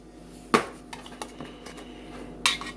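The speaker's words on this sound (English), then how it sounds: "So we put a teaspoon of baking powder in there." A metal teaspoon tips baking powder into a bowl of dry pancake ingredients, giving a sharp clink, a few faint taps and a second clink against the bowl, close up with no talking.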